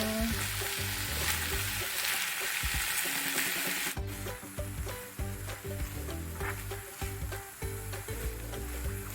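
Small shrimp and prawns frying in a pan, with a loud, continuous close sizzle and spatter that shifts partway through, joined by occasional stirring clinks, with no talking.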